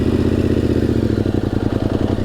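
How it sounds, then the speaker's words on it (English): A motorcycle pulls away as the clutch is eased out and throttle is added, its engine running loud and close with a steady, pulsing mid-range drone and some mechanical clatter, and no voices. "you release the clutch slowly, and then you meet up with the gas"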